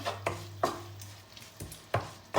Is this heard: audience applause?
no